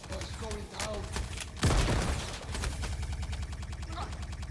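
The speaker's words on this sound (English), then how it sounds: "That's a fucking grenade." Grenade blast and rapid gunfire in the video game Star Citizen: a sharp explosion midway over repeated automatic bursts, loud and close, with a voice talking over the start.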